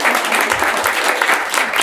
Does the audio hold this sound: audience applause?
yes